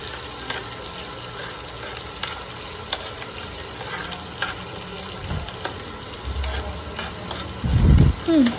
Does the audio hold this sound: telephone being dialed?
no